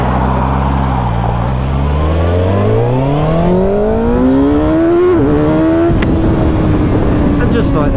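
A 2025 Kawasaki ZX6R sports bike ridden on a public road, its engine revving up through the gears with rising pitch, loud and close, with wind rush.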